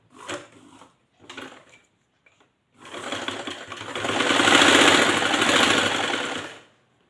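A sewing machine stitches a strip of fabric folded over by half an inch, with two short bursts of stitching followed by a steady, close run of several seconds that winds down at the end.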